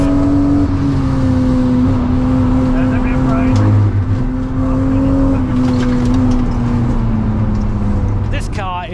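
A 210-horsepower naturally aspirated 30-year-old Toyota Mark 4 Supra with a 5-speed drones steadily on a race track, its engine note loud and sustained, shifting pitch slightly as it pulls, ending with a brief high whine.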